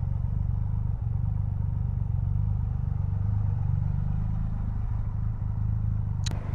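Triumph Rocket 3 motorcycle engine idling and rumbling while maneuvering slowly, a deep, steady, close throb that holds even throughout with no hard revving.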